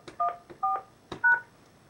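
Telephone keypad tones entering a voicemail password, three distinct two-tone beeps spaced at an uneven rhythm, each clear and close with brief gaps and faint clicks between them, no voices.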